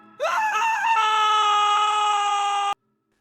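A single loud, piercing scream in a horror story about a witch rises sharply, wavers briefly, then holds steady for over two seconds before cutting off abruptly into silence.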